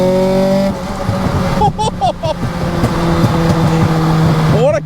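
A Nissan Pulsar SSS hatchback revs hard and accelerates, its engine note rising through the gears with a brief tire chirp, loud and close, with voices talking over it.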